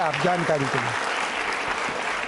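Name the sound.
audience applause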